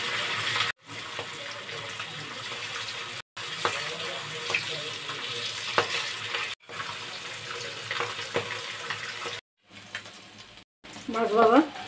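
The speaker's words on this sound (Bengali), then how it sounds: "এখন এগুলো ভেজে নেব।" Carp fish frying in a pan in a Bengali home kitchen, a steady close sizzle and hiss with occasional spatters that cuts out briefly a few times, with no talking.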